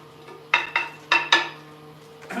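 Rims tapped after torquing give four bright metallic pings in two quick pairs, each ringing briefly before fading, close and clear, with a faint fifth tap at the end.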